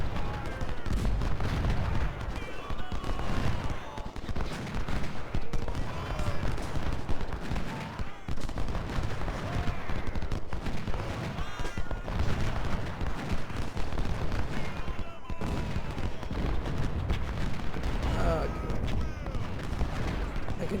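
Civil War artillery guns fire in the Ultimate General strategy game, repeated booming shots and crackling volleys overlapping in an irregular, steady barrage while someone talks throughout.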